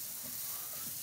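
Onions frying in butter in a pan, giving a steady, close sizzling hiss with soft crackles and no talking.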